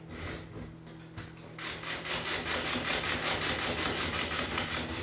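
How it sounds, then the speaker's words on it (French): A blender starts up to mix a piña colada smoothie, its motor whirring in a steady, loud rhythmic churn that kicks in after a short pause, with no talking. "On va starter une première fois, juste pour commencer à mélanger."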